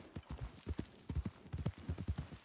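A horse galloping in Red Dead Redemption 2, quick rhythmic hoofbeats drumming close and clear in a steady pattern for a couple of seconds, with no talking over them.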